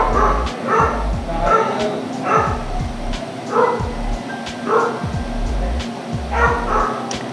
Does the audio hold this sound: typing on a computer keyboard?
no